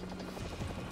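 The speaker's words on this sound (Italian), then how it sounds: "No dai, l'elicottero nemico." An enemy helicopter in Call of Duty 4 Remastered gives off a steady mechanical rotor drone with a low throb, constant and fairly close, with no voices over it.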